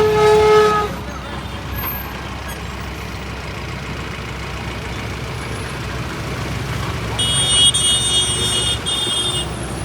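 Trucks pull in, a large truck, a pickup and an Eicher truck: loud engines rumble and idle with horn toots near the start and later, under a busy outdoor din with voices.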